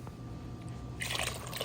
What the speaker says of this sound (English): Now I'm still adding more water because it is like still a little thick